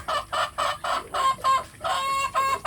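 Free-range village chickens clucking as they prepare to lay eggs: a close, rapid series of about ten rhythmic clucks in quick bursts, loud and clear with no talk.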